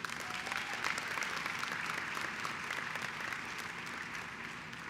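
Sustained audience applause fills an awards ceremony hall, a steady dense wash of many hands clapping at moderate level with no talk over it.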